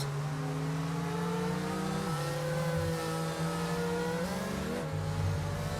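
Race car engines from an esports racing game held at a French circuit, a steady loud whine of several cars with pitch rising and dropping through gear changes, continuous with no talk.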